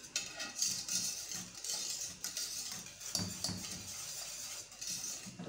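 A spoon stirs trifle dessert ingredients in a bowl, making faint, irregular clinks and scraping taps against the dish, quiet and close with no voices.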